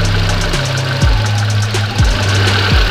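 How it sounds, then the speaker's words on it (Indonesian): A fuel-injected car engine idles at too-low RPM, its close, rumbling idle surging up and down roughly once a second in an uneven, hunting rhythm. "Ini kalau RPM terlalu rendah nanti efeknya putaran mesinnya tinggi rendah gitu."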